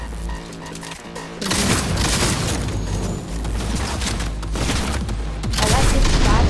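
Shotgun blasts and chaotic combat in Cyberpunk 2077, heavy booming shots layered with crashing impacts and rumbling game action, loud and continuous with a couple of sharp breaks.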